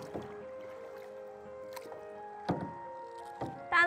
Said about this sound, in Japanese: チャポンっていう音好き。